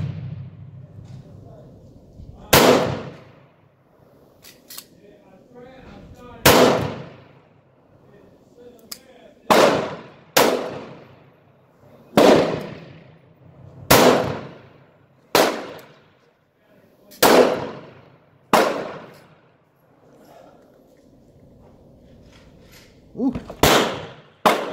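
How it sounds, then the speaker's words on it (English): Ten sharp gunshots from a Taurus 85 .38 Special revolver fired outdoors on a cold range, spaced irregularly a few seconds apart, each a loud crack with a short decay over quiet background. "And these are the first shots out of this gun."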